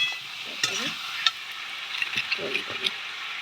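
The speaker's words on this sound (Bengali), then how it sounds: "কষাচ্ছি" Potato and pointed gourd curry sizzles in a hot pan while a spoon stirs it, giving a steady fry hiss broken by several sharp clinks and scrapes against the metal.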